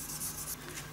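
A paper blending stump, its tip roughened by 240-grit sandpaper, is rubbed back and forth on a sheet of paper to smooth it, making a soft, close, scratchy rubbing over about a second.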